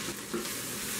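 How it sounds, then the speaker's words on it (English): Ground beef sizzles in a pan on a stovetop burner, a faint, steady crackling hiss heard alone in the background. "If you can hear something cooking in the background, I've got some ground beef going on another burner"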